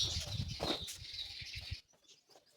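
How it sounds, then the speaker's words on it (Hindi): Wings flap in quick bursts nearby, with bright, high chirping bird calls over a faint murmur, and the sound drops away suddenly near the end. "कुछ चिड़ियों को भगाना पड़ता है, बहुत चिल्लाती है।"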